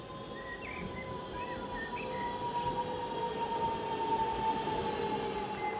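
A British Rail Class 323 electric train on the Glossop line hums steadily with a faint rising motor whine and rail rumble, moderately loud and continuous, with no talking.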